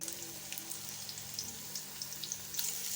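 Cooking oil heats in a pan for chicken biryani, a soft steady sizzle with faint crackles and pops, close by and quiet, with no voices.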